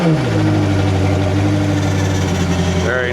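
A Koenigsegg Gemera hypercar engine cranks and catches, then settles into a loud, steady idle with a deep, even drone right up close.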